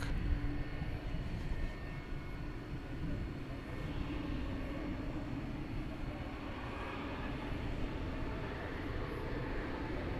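A Volaris Airbus A321neo takes off at DFW airport at night, heard as a steady, distant jet engine roar and rumble that holds for about ten seconds without much change.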